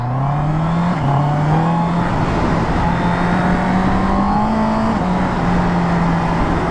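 A new Honda CB650R E-Clutch naked motorcycle's engine drones steadily while riding, its pitch rising and dropping slightly with gear and throttle changes under loud wind rush.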